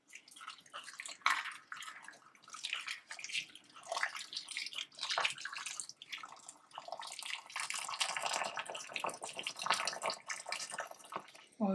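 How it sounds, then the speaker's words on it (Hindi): Boiling water being poured over peeled, cut potatoes in a bowl: a continuous splashing pour that surges and fades in waves, close and moderately loud, with no voices. "अब इसमें आपने डालना है उबलता हुआ पानी"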